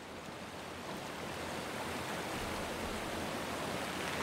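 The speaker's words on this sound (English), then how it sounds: "Gotta love it how he just built this pathway in the middle of that waterfall." A waterfall in the Batcave in the video game Batman: Arkham Asylum roars as a steady, dense rush of falling water that holds constant and alone, swelling slightly louder toward the end.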